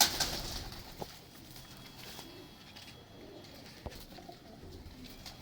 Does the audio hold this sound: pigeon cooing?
yes